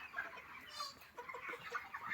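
Many poultry-farm broiler chickens on day 39 cluck and murmur in a continuous, moderately faint chorus inside the shed, with scattered louder clucks rising above the steady crowd noise.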